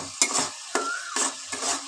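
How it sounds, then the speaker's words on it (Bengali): A spoon scrapes and stirs spice paste frying in a pan for fish roe fritter curry, giving quick rhythmic scraping strokes over a steady close-up sizzle. "দিয়ে মশলাগুলোকে ভালো করে কষিয়ে নিচ্ছি"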